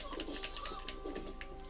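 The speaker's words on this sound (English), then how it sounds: "Oh, girly scream. Were you a bird?" High-pitched scream sound effect from The Punisher on the Sega Mega Drive, coming out as several short, chirpy, bird-like cooing calls in quick succession over constant game background noise.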